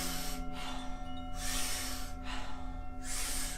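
Wim Hof style breathing during a yoga class, a big whooshing inhale followed by a softer exhale, repeated twice, close and clear with no talk.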